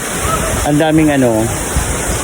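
Palale Falls, a very tall waterfall, gives a steady, close roar of rushing water throughout, while someone speaks briefly over it.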